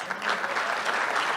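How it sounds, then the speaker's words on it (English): Audience applause at a live stand-up comedy show, a steady dense wash of clapping hands with no voices over it, moderately loud and sustained throughout. "what the fuck are you clapping for?"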